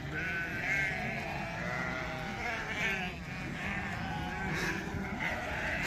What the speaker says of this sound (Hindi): ये भेड़ें मुझे देखकर आ गई सारी की सारी यहाँ पे